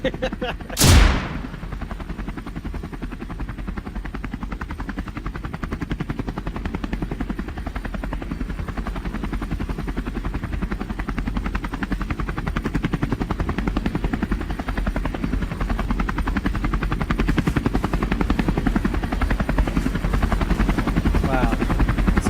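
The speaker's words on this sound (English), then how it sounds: "Don't shoot the helicopter though!" Helicopter in the video game Kona II Brume, a steady loud rotor drone running the whole length, with a sharp burst like a gunshot or flare near the start and some rising clatter toward the end.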